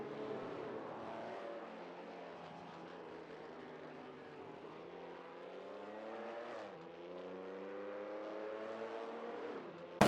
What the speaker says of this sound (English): watch these AI race cars zoom around